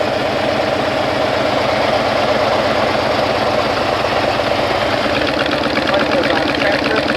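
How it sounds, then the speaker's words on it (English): A Harley-Davidson motorcycle engine idles close up after carbon cleaning, a loud, steady low throb with an even rapid pulse that holds without pause throughout. "Engine's starting to run smoother."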